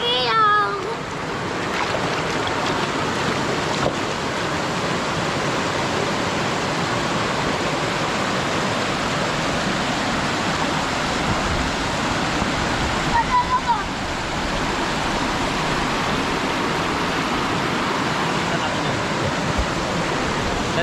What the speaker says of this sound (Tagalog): Naliligo kami dito sa ilog.